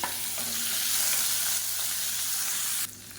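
Dried red chillies and tomato fry in a pan for drumstick leaf chutney, giving a steady, close, loud sizzle that cuts off sharply near the end, with no talking.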